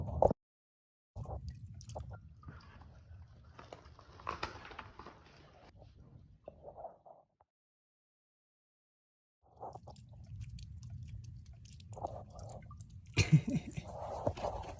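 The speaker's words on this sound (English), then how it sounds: "I've never seen water pour into a basement as quickly as that water was pouring into a basement." Water pours through a basement wall like a waterfall, giving a low, steady rushing and splashing that is fairly quiet, broken by a brief silent stretch midway before resuming.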